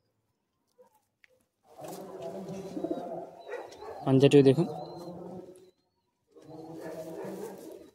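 Pigeon of the Chini sira breed cooing in low, throaty bursts close by, with a louder cluster near the middle, while someone talks over and between the calls.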